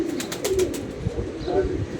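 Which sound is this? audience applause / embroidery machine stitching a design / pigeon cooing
pigeon cooing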